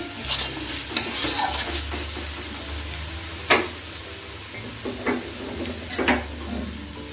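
Chopped green chilies go into frying masala for a Bengali katla fish curry, with a low sizzle and several sharp spoon-and-pan clinks and stirring scrapes, close and quiet with no speech.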